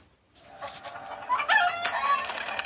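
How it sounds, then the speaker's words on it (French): A pair of chickens cluck and squawk close by in a horror video game, a busy run of bright, overlapping calls that grows louder after a short silent start. "il y a bien les deux poules"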